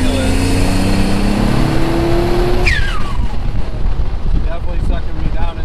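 A twin-turbo Mitsubishi 3000GT VR4 with a built 6G72 engine pulls hard, its loud, rising engine tone cutting off at a shift, then roaring on under heavy wind and cabin noise as people talk inside.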